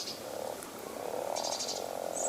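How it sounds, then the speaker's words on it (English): Poison dart frogs calling in the Amazon rainforest, repeated buzzing trills in short bursts with faint high insect-like chirps behind, moderately close and with no voices. "These are the poison dart frogs, some of the most toxic creatures on the planet."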